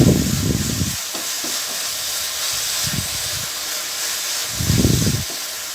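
Coconut khoa cooking with ghee is stirred in a pan, with a constant soft sizzle and recurring scraping bursts as the spoon moves through the thick mixture, heard up close.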